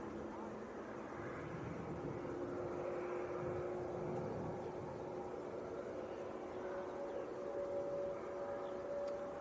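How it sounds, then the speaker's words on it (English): Airbus A321 engines starting up at Leeds Bradford Airport, a steady hairdryer-like whine with a rising thin tone over a broad rushing roar, distant and continuous. "If you mean the sound of a hairdryer, that's the A321 starting up."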